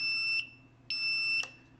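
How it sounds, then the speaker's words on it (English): A racing drone's beeper sounds on failsafe with two loud, shrill electronic beeps, each about half a second long, separated by a short pause and heard alone at close range. "So when failsafe is on, my beeper beeps."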